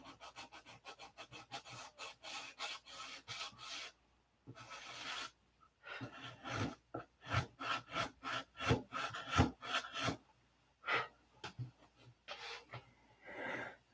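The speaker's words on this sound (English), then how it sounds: "why is he sanding?" Repeated back-and-forth sanding strokes on lacquer paint over a hard surface, loud and close, in bursts separated by brief pauses.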